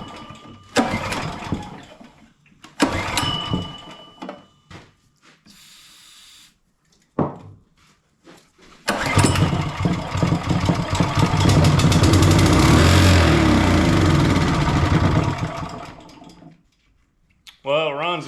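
An old Kohler 6.5 engine, left outside for ten years and running on old gas, cranks in a few short sputtering bursts separated by pauses, then catches and runs loudly for several seconds before cutting off; voices speak between the attempts.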